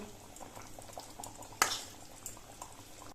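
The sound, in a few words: paneer gravy boiling uncovered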